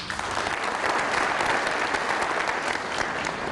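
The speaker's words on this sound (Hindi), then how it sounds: "तो हॉल तालियों से गूंज उठा" A hall full of people applauds in a dense, steady wave of clapping that holds at an even level throughout, with no speech over it.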